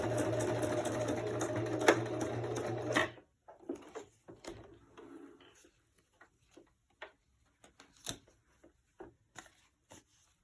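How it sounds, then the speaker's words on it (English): A sewing machine stitches paper cards in a steady, close buzzing run for about three seconds, then stops, followed by scattered light ticks and handling clicks. "let me sew these really quick and I'll be right back"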